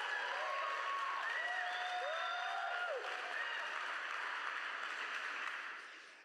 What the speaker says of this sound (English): if somebody wants to clap, let's clap.